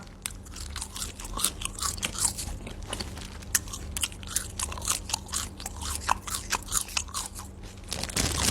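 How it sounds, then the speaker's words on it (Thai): Loud, close chewing of sliced raw beef with a sour dipping sauce, a steady run of wet crunching bites and mouth sounds over about eight seconds with no talking. "กินเสียงดังก็ขอพันหน่อยนะ มันเป็นเอกลักษณ์นะทุกคน"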